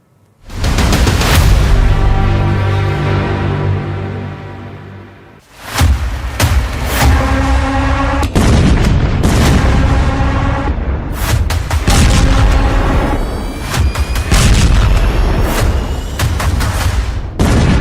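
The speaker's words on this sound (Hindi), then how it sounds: "फिर बम फटने लगे हैं" Bombs exploding in war footage from the Middle East conflict, heard as continuous loud booming blasts and rumbling detonations that fill the whole stretch, with a brief dip partway through before the heavy explosions resume.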